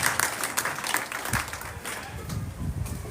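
Church congregation applauding together, a steady wash of many hands clapping at moderate level, with some voices and low murmuring joining toward the end.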